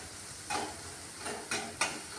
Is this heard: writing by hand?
no